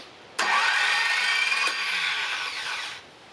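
An aluminum LS engine with no internals cranks over on its first start, a loud continuous whirring starter drone that runs for about two and a half seconds between sharp clicks, then cuts off.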